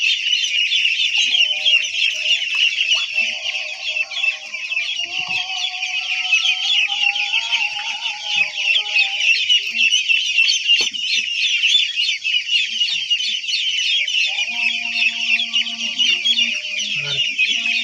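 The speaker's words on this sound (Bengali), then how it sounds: "অরিজিনাল খাকি ক্যাম্বেল হাঁস" A flock of Khaki Campbell ducks, kept confined and raised for eggs, keeps up a dense, continuous high-pitched chatter of calls, loud and close, with a few lower calls breaking through.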